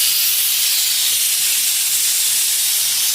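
Steady, loud steam hiss pours out without a break, like a pressure cooker venting, close and unbroken with no voices.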